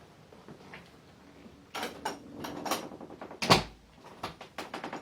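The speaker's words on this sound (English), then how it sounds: "As you can see, the door opens and closes easily without any rubbing." An interior door in a rental home swings open and shut, giving a few close knocks and thuds with a sharper latch click near the end, no voices over it.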